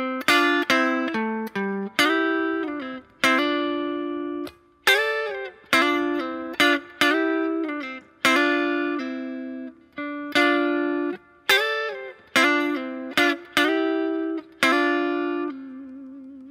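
Guitar playing a song, a sequence of clean plucked notes and chords with pull-offs, played alone at a steady, moderate volume.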